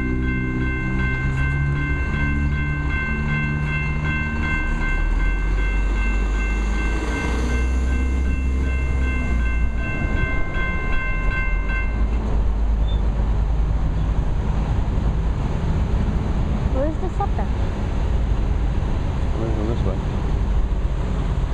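A SEPTA commuter train passes close to a gate: a long, loud horn blast for about twelve seconds, then steady rumbling and clattering wheels as it rolls by, with some talk nearby.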